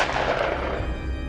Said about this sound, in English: After a flurry of gunfire